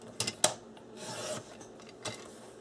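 Small strips of paper being cut for a scrapbook journal, a few quick crisp snips followed by a soft sliding rasp and one more cut, faint and close in a quiet room.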